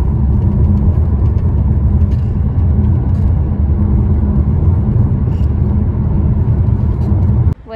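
A car driving on the road, heard from inside as a steady, loud low engine rumble and road whir that continues evenly before a brief dip at the end.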